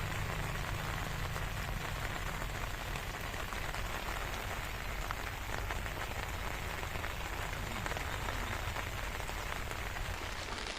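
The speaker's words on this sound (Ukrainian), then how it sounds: "Бачите, друзі, пішов дощик і такий не слабий." Steady, heavy rain patters on surfaces all around at a bream fishing spot, a continuous dense wash of drops with no pauses.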